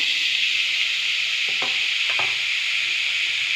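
Beetroot fries in hot coconut oil in a pan, giving a steady, even sizzle throughout, with a couple of brief scraping stirs in the middle.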